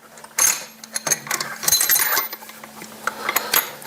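Metal impact gun sockets rattled and clinked while being sorted by hand, a run of sharp jangling knocks and clatters, close and fairly loud, with no talk.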